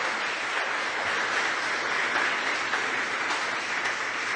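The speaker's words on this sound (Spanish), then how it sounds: "Bríndele un aplauso al Señor en esta mañana" A church congregation claps for the Lord during a Sunday morning service, a steady, even wash of applause filling the room at moderate loudness with no break throughout.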